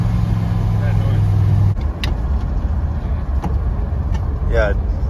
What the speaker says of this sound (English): You can hear the slight exhaust leak